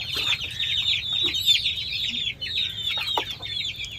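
Chickens in a coop give rapid, repeated clucks and cackles up close, several birds overlapping in a busy, continuous chatter.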